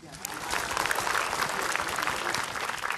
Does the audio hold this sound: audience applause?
yes